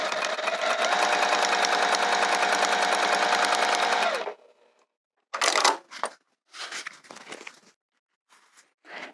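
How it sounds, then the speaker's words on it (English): Sewing machine stitching a cork wrist pouch, a loud steady run of rapid stitching for about four seconds close by, then stopping, followed by scattered rustling and handling noises of the cork fabric. "and keep sewing"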